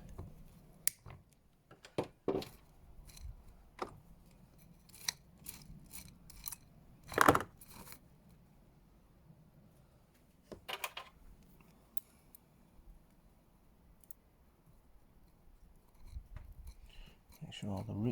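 Scissors snipping the excess roots of a Chinese elm bonsai during repotting, a series of sharp, close clicks and snips scattered irregularly with quiet gaps, one louder cut midway, and no talking.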